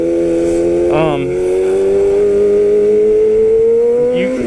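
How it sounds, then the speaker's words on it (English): A motorcycle engine drones steadily and close as the bike comes down from a wheelie, with a brief rev change and a short scrape near the end, under a speaking voice. "I'll drop back and I'll cut the gas, ease on the brake, and then ease off of it slightly to scrape it"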